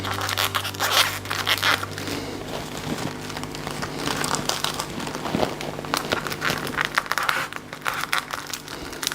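Scissors snip and scrape at trimmed yarn ends while a woven flower wall panel is finished, close-up with soft rustling and crinkling handling noises between short cuts.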